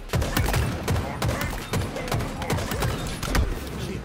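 Bursts of weapon fire in Halo Infinite, a string of punchy close shots landing in quick uneven succession over steady game ambience, no speech.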